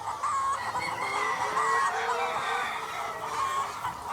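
Chickens in a close-quarters poultry farm setting cluck and crow continuously, a dense flock chorus with bright repeated calls layered over a steady background din.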